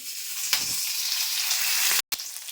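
Green chillies fry in a pan with a steady, dense sizzle that stays loud and even throughout, with one brief break near the end.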